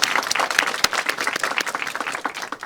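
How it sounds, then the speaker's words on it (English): An audience at an essay contest ceremony gives the judges a warm round of applause, dense, continuous clapping close and lively throughout. "Please give them a warm round of applause."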